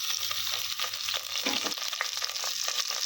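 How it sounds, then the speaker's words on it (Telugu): Onion and green chillies frying in a pan, a steady dense sizzle with occasional stirring scrapes, close and continuous with no talking. "ఇలా కొంచెం సేపు ఫ్రై చేసుకోవాలండి"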